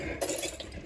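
A whisk clinks and scrapes briefly against a bowl during a comedic baking scene, a quick, light metallic rattle at close range.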